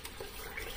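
Running water from a bathroom sink tap as an Ever Ready C40 shaving brush is wetted before a shave, a steady, soft, continuous splashing flow heard alone and fairly faint.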